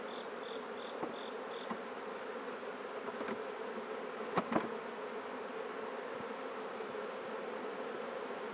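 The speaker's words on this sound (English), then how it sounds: "Oh boy, there's a lot of bees in there now." A dense swarm of honeybees drones steadily inside an opened beehive, with frames being lifted out; the buzzing stays continuous and close, broken by a few soft knocks and clicks of handling, with no voices.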